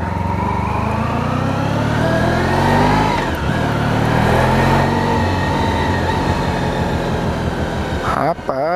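A Honda Pan European 50th Anniversary motorcycle engine droning steadily while riding over speed bumps, close and continuous, with a voice talking over it.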